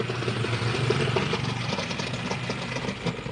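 A Eureka washing machine motor running with a broken gearbox, giving a continuous noisy mechanical churn with faint rattling knocks, recorded up close and without speech.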